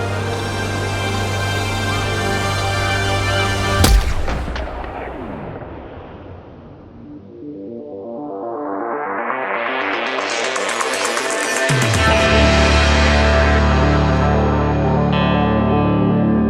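A pistol gunshot effect in a fantasy audio drama, a sudden loud blast followed by a long swelling, distorted roar and rumbling tail, dense and heavily processed, with no talk.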